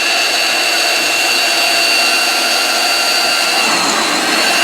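A loud, steady high-pitched motor whine drones continuously as a power drill runs at full speed without pause, drilling out a stripped head bolt hole in a big block Chevy engine block.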